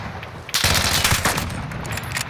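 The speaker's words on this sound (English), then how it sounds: "They hit fire from a mile away with the LMG." Rapid light machine gun fire in Call of Duty: Modern Warfare: a loud, dense burst of automatic shots that starts abruptly after a brief lull and keeps rattling steadily to the end.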